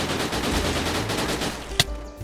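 A newly added gun in the video game Gorebox firing a rapid burst of shots, dense and fast like automatic fire, then a sharp single louder report near the end and a brief tail.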